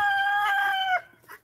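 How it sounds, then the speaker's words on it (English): A rooster crows loudly and close by in one long, strained call that cuts off sharply, followed by a faint cluck. It is one of a backyard flock of about six roosters. "they're super loud. Sorry. I have like 6 roosters"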